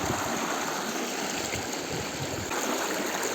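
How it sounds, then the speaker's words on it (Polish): Strong river current rushing steadily, a dense, continuous broadband roar of fast-flowing water close by, with no talk over it. "Poziom wody jest w miarę, ale nurt jest straszny."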